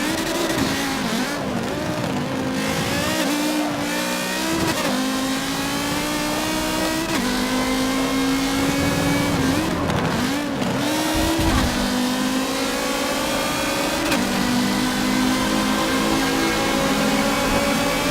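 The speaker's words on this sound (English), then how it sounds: "We're drifting a little bit." Race car engine in Forza Motorsport 7, drifting around the Rio course, with sustained loud revving, gear shifts and rising and falling pitch as the car slides and accelerates, continuous throughout.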